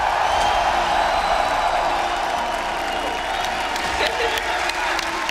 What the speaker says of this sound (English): Copper Box, make some noise